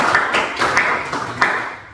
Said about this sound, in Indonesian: kita tepuk dulu untuk kita semua